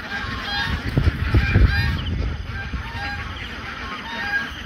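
Farm ducks honk and squawk loudly in a noisy overlapping flock, close by, with dense calls throughout while eggs are collected.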